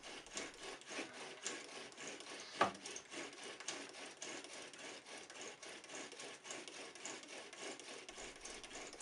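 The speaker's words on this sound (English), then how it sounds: "I use a bow drill because," Steady scratchy rasping of a bow drill working into shell, continuous back-and-forth grinding with no voices, close up and moderately loud.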